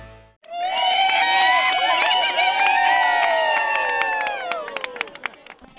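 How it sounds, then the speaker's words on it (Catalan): Traditional Rihihiu shout once used to call between farms across the olive fields of the Montsià plain: a loud, long, high-pitched cry holds for several seconds, wavering and sliding downward before it fades, with a few sharp claps near the end. "Este és crit que es feia als camps d'oliveres de la plana del Montsià per comunicar-se d'una finca a una altra"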